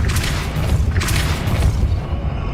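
A Depulso spell cast in Hogwarts Legacy, a deep booming blast with a rumbling low-end thump and a second whooshing burst, loud and close.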